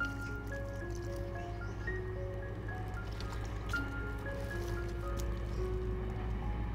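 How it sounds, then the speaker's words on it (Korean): Water trickles and drips steadily from a garden hose or tap onto plants in a home garden, soft and close, with faint tonal background hum and no talking. "물이 나오네."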